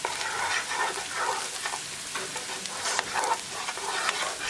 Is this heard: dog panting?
no